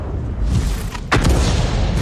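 An M40/M43 self-propelled gun firing in World of Tanks, a single heavy booming blast about midway that rolls into a long low rumble over constant engine and battle noise.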